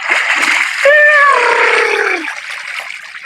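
Freshly caught pangas fish thrashing in water, a loud burst of splashing and sloshing that swells and then trails off into a softer wash.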